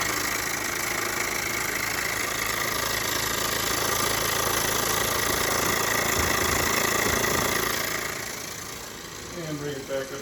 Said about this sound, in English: there's our functioning steam engine